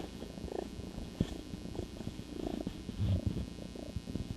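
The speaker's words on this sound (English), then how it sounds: "He's purring on it." A soft, low rumbling purr from a cat close by, rhythmic and continuous, with faint rustling over it.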